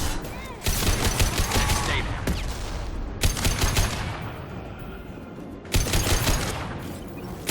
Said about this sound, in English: Seeker rockets.